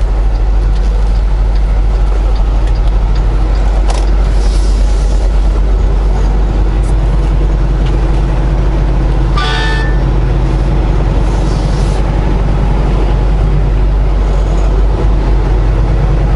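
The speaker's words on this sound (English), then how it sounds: "That must be the Peterbilt, what is that model number?" A Peterbilt truck idles loud and close in an industrial lot in the City of Industry, a deep steady diesel rumble with a short sharp hiss partway through.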